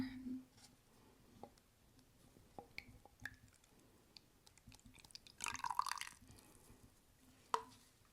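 Hair colorant being poured from a container into a bottle in a quiet close-up setting, with faint drips and liquid trickles, a brief burst of splashing midway and a few soft clicks and handling sounds.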